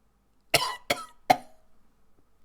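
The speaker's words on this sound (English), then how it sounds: "then just kind of coughs" Three sharp, close coughs come in quick succession, each a short harsh burst, followed by a faint trailing throat sound, with no talking.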